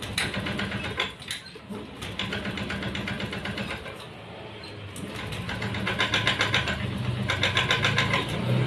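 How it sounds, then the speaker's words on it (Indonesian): Honda Beat FI scooter engine cranking and starting up nearby, with a rapid mechanical rattle and repeated surges that settle into an uneven idle before it revs a little louder near the end. "coba sekali lagi sepeda motor coba dihidupkan Mas Bro"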